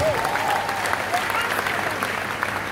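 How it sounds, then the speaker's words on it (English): An audience at a testimony presentation breaks into steady, full applause that carries evenly throughout, with a voice faintly audible beneath the clapping. "Can you clap for my mastermind, please?"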